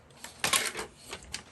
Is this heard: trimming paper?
yes